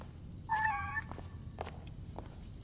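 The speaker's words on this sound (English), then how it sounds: "I didn't realise there was three cats." A cat in the Powerwash Simulator 2 video game gives one clear, drawn-out meow near the start, followed by a few faint soft sounds over a low background hum.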